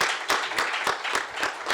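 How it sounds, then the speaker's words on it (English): A university audience at a student vice-presidential election debate applauds the two candidates, with faint, rhythmic claps repeating at a steady pace. "Can you please join me in giving a round of applause for our two candidates?"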